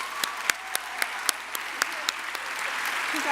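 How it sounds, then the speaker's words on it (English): Sparse, evenly spaced claps ring out one after another for scholarship recipients at a school band's end-of-year event, a small scattering of applause in a quiet room rather than a full ovation. "Let's have another round of applause for all of our scholarship recipients"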